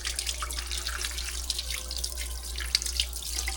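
Kitchen tap water runs steadily into a sink while a knife is rinsed, a soft continuous splash with small spattering bursts, heard alone and fairly quiet.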